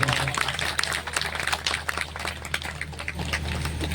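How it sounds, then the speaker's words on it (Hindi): An audience at a Shrimad Bhagavat Mahapuran gathering in a residential colony applauds steadily to welcome the MLA, a continuous crowd patter of claps with a low hum underneath. "तालियों से हमारे सम्मानित विधायक जी का"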